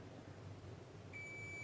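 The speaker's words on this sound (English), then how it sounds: "It's shorted. So it shouldn't be beeping." A continuity tester beeps on a shorted transistor inside a Grundig Transworld Petite radio under repair: one steady high electronic tone starts late and holds to the end over a faint low hum, with no talk.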